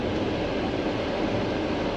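A sleeper train on the Bucharest to Chisinau line, rolling along with a steady, dense rumble and rattle from inside the carriage, constant and fairly loud with no talk.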